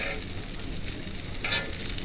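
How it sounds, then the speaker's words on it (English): Cherry tomatoes land in a hot frying pan with chorizo and glazed onions, raising a close, steady sizzle with a brief brighter crackle near the end. "So now we're going to add all this little cherry tomatoes,"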